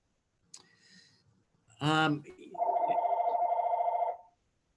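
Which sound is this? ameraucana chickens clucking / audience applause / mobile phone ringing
mobile phone ringing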